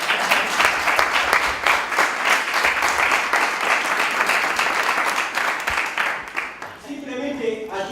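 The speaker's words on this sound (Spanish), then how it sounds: "Con lo cual pido un fuerte aplauso." Strong audience applause for a seminar speaker rolls steadily for several seconds, then fades out toward the end as a voice begins talking.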